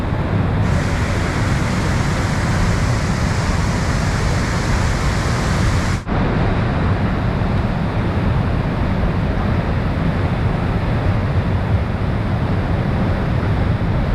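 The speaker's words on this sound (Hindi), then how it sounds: "इतना खतरनाक हो गया पानी सुबह से ज़्यादा" Floodwater in a swollen river at Kullu, Himachal Pradesh, rushing in a dense, loud, unbroken roar that stays steady throughout, with one brief dip partway through.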